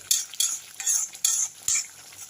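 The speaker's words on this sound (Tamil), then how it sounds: "மஞ்சத்தூளும் பெருங்காயமும் கொஞ்சம் போட்டுக்கலாங்க. இதுலேயே நல்லா கலக்கிடுவோம்." Turmeric and asafoetida are stirred into hot oil in a pan, with about six quick, close scraping strokes in a steady rhythm over a light sizzle.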